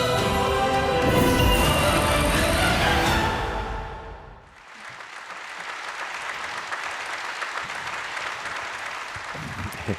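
An audience applauds after a lecture at a forum event, loud sustained clapping for about four seconds that fades, then lighter scattered clapping continues under a speaking voice.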